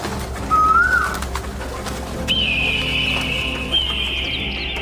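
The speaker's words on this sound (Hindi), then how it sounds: "दूसरे दिन सुबह में कोयल आकर कूकने लगती है।" A bird calls clearly against a steady background hum: one short rising whistle early on, then a longer sustained piping note that carries to the end, fairly close and loud.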